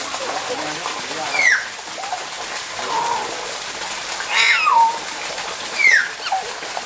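A Nias hill myna gives three separate sharp, whistled calls, clear and fairly close, with quiet gaps between them.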